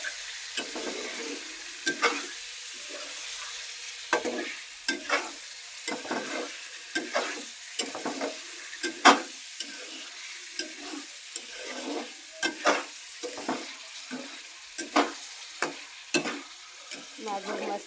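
Magur catfish frying for a bhuna curry, with a loud, constant sizzle of oil and repeated scraping strokes of a spatula against the pan in an uneven rhythm.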